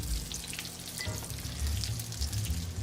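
Marinara sauce simmering in a pan, a dense continuous sizzle and bubbling with low rumbling underneath, steady and close, no voices.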